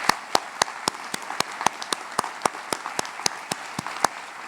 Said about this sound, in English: Please join me in a round of applause for all of our first responders.